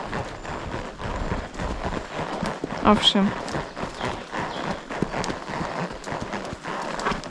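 A young mare walks on a loose rein during a trail ride, her hooves clip-clopping in a steady, close rhythm beneath a rider's conversational speech.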